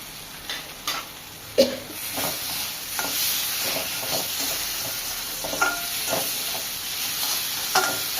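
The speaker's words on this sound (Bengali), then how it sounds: "মশলাগুলো কষা কষা হয়ে গেছে, এবার আমি ফুলকপিগুলো দিয়ে দিচ্ছি" Cauliflower goes into spice masala frying in a pan for a Bengali rui fish curry, with a steady sizzle and hiss broken by several sharp spatula clacks and scrapes, close and moderately loud.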